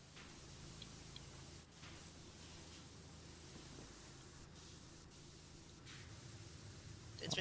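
A power washer nozzle sprays steadily in Power Wash Simulator, producing a continuous broad hiss with faint ticking, while a voice talks quietly over it.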